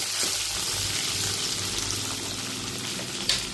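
Green chillies sautéing in a pan for a spicy chilli dish, a steady close sizzle and bubbling hiss with a low rumble beneath and a brief clatter near the end.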